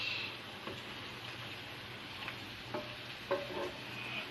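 Tuna steak frying in oil until golden brown, Filipino style, giving a steady close sizzle with faint crackles and a few small pops, no voices over it.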